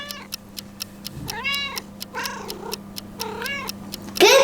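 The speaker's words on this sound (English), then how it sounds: "Cats make soft and gentle meow sounds." A domestic cat meows several times in a row, each call a clear, close, gentle mewing rising and falling, with a steady faint ticking like a clock in the background and a brief louder scrape at the end.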